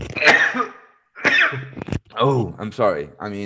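Two sharp, explosive bursts close to the mic, a sneeze and a cough, followed by someone speaking briefly.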